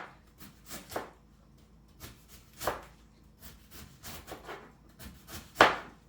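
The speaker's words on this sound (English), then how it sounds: "using such a small chopping board for red cabbage" Red cabbage being chopped on a small board: irregular knife thuds and crunchy cuts, some sharper than others, close and fairly quiet with pauses between strokes.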